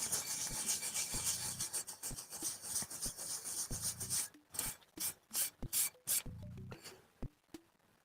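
Rubbing and scraping by hand to clear a tile off a homemade pixel art tile generator, with repeated close rasping strokes that break into short separate scrubs toward the end.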